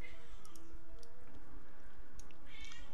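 Domestic cat meowing and whining faintly over a low, steady background hum, a few short high cries scattered across the clip, with no one talking.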